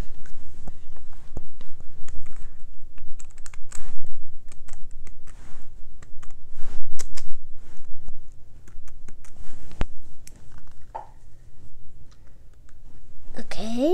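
Typing on a computer keyboard, close and crisp, with irregular bursts of key clicks and short pauses, a quiet voice speaking briefly at times.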